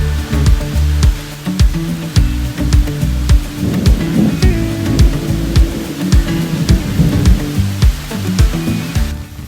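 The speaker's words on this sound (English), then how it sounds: "It's a downpour." Heavy downpour during a thunderstorm on a hiking trail, with loud, close rain pounding nearby and a low, rumbling, roaring wash underneath that swells and eases.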